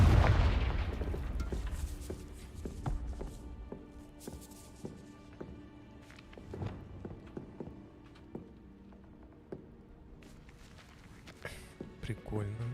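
Confringo fire spell blasts in the Hogwarts Legacy video game, a series of sharp booming impacts at irregular intervals with thumps and footsteps in between, loud and close.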